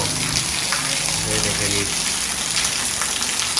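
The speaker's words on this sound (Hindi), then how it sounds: "बारिश तेज़ हो गई" Heavy rain pours down onto a street in a constant loud rushing hiss of falling water. A voice speaks briefly over it.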